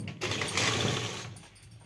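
A sewing machine runs steadily as it stitches elastic into trousers, one continuous close mechanical whir that tapers off near the end.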